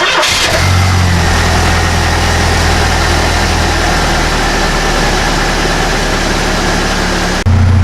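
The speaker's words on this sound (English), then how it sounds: "And start the engine and let it warm up." A car engine in a driveway cranks, catches and settles into a steady idle while warming up after a thermostat replacement, a loud, close, even rumble that runs until it cuts off near the end.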